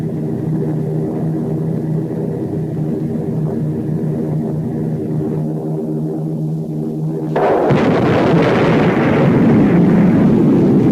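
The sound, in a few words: atom bomb explosion, film sound effect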